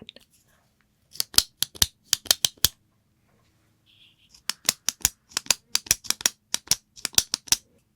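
A pen is clicked repeatedly up close, crisp sharp clicks in quick irregular bursts with a pause in the middle, very clear against a quiet background.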